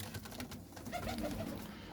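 Soft, low pigeon coos sound close by in a short series, over a faint background hum.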